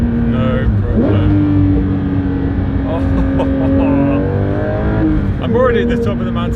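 A Porsche 992 S/T blasts up a mountain pass road, its engine revving hard and climbing through gears with sharp upshifts, loud and close, with a voice speaking over it.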